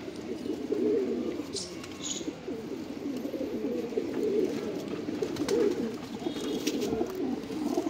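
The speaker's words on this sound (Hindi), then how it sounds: "ये देखो जी दूसरा, ये मकोया कबूतर" Low, soft cooing from Punjabi pigeons runs steadily throughout, with a few faint higher chirps briefly overhead, at a moderate, fairly close distance.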